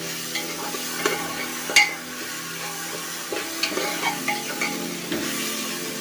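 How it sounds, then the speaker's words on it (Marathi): Grated fresh coconut is stirred into a hot pan on a high gas flame for coconut rice, giving steady scraping and soft sizzling with a few sharper utensil knocks, and no one speaks. "ते आता व्यवस्थित मिक्स करून घेऊया"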